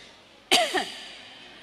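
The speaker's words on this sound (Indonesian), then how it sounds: "Suara batuk yang pelan tertahan menyita perhatianku." A single quiet, suppressed cough from someone ill in a room of a house, a short muffled burst with a softer second pulse just after, alone against faint background hiss.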